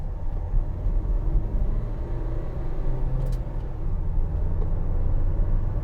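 A 2016 Vauxhall Vivaro 1.6 CDTi ecoFLEX van drives along with a steady low engine and road rumble throughout, the drone holding even with no distinct shift audible.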